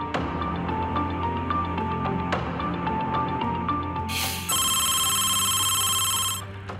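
A telephone rings in a repeated electronic pattern, steady and fairly loud, ending in a bright, high trill burst before it stops.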